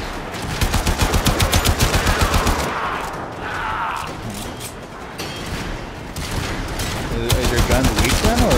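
A gun in the video game Warframe fires in long, rapid automatic bursts, a loud rhythmic rattle that pauses briefly and then resumes, with people talking over it.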